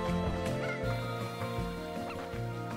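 A cartoonish chicken from the video game Slime Rancher 2 gives repeated short clucks over steady in-game music that runs loud and continuous throughout.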